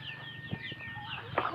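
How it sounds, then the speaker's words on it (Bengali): Chickens cluck close by on a village farm, a few short clucks and calls scattered through a steady outdoor background. "আমার সাথে মুরগি আসছে"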